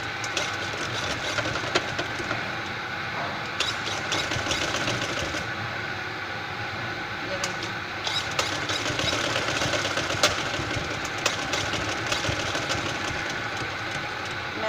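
A sewing machine stitches lace onto a small child's frock, running in a continuous close, rattling mechanical hum with small clicks and brief changes in pace throughout.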